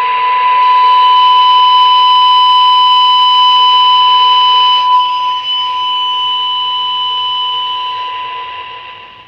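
A steady, loud electronic test tone comes through a Ranger RCI-63FFC4 radio fed by a signal generator, holding a constant pitch for several seconds before slowly fading at the end.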